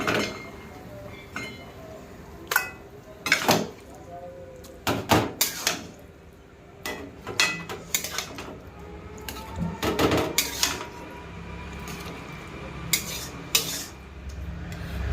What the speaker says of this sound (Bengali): এবার আমি সবজিটা ঢেলে নেব।